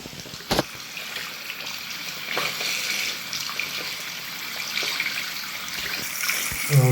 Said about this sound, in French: je vais me rincer le visage avec de l'eau chaude.